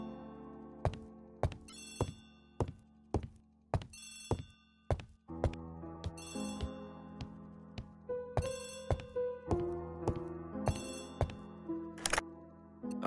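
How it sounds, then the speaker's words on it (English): A telephone bell rings repeatedly in a radio drama, with sharp metallic rings in a regular rhythm and some thunks and tones between them. No speech is heard. "Poirot, the telephone."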